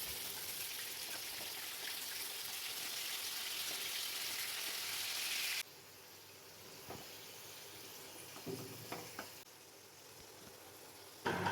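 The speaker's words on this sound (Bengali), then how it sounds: "আলুর চারিদিকটা আস্তে আস্তে বাদামি করে ভেজে নিতে হবে।" Potatoes frying in oil until browned for an aloo dum, a steady broadband sizzle for the first half that drops to a quieter simmer with a few faint clinks and stirs.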